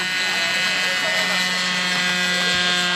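A student-built SAE Aero Design East 2012 competition model aircraft from the University of Florida on its takeoff roll, a steady propeller and motor drone with a high whine, close and continuous, with voices in the background.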